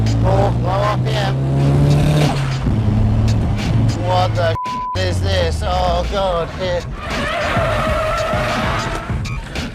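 On a test track, a car engine drones at low RPM, revs up unevenly and struggles, cutting out briefly before revving again. Someone exclaims over the engine noise.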